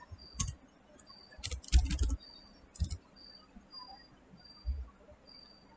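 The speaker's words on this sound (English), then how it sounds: "So when I type a password," Scattered keystrokes on a computer keyboard as a password is typed, a few quiet close clicks in short bursts separated by pauses against a faint background hum.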